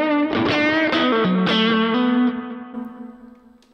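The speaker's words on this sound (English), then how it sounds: "one's like a light-ish overdrive." Electric guitar through a light overdrive on a Kemper amp plays a quick phrase of picked notes, then lets a final note ring out and fade, near and unaccompanied.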